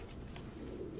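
Pigeons cooing in the Detroit: Become Human video game, a soft, low burbling coo over a quiet background, faint and brief.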